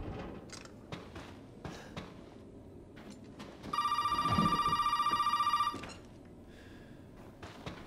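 Resident Evil 7 telephone ringing in-game, a loud sustained electronic trill lasting about two seconds amid quieter creaks, thuds and ambient game noise, with no voices.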